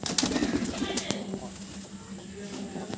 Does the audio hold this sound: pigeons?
yes